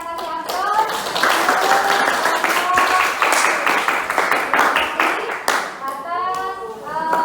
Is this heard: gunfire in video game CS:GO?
no